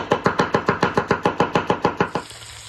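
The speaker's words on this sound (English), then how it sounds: "We're gonna cut an onion." Knife chopping an onion on a cutting board, about a dozen quick, evenly spaced crisp strikes close by, then stopping.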